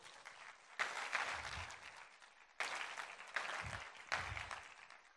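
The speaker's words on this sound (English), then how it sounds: "You guys give Jasmine a round of applause." Audience applause at a TEDx talk, broken into several swells of clapping that start abruptly, fade, then surge again, with a broad hall-filling sound and no one speaking over it.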